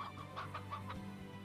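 A Stony Chickadoo in the video game Slime Rancher clucks in a quick run of soft, hen-like calls, moderately loud, over a steady low game hum.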